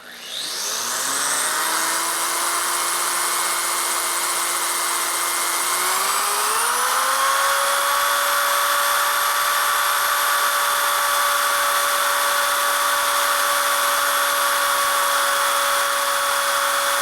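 A power drill bores into a part of a 1967 Harley-Davidson 74ci Shovelhead engine, a loud sustained whine that climbs in pitch during the first seconds and then holds steady and close.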